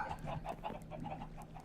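A chicken in the Minecraft video game clucks in a quick run of about eight short, evenly spaced clucks, faint and alone.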